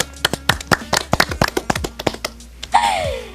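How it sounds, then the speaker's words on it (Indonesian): Scattered clapping from a small audience after a film screening of Ondo Bukan Rondo, sharp separate claps that thin out, then a brief vocal sound at the end. "Tepuk tangan dong"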